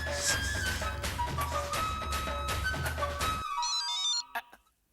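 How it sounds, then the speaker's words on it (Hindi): A phone rings in a sitcom scene, a bright repeating electronic ringtone pattern over music, stopping abruptly near the end followed by a brief click. "लो आ गया माय डियर जीजा जी का फोन"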